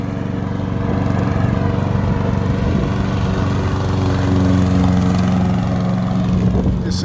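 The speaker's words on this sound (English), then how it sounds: "the lawnmower cuts the grass?" A lawnmower cuts grass with a steady, loud engine drone close by, holding constant throughout with no talk over it.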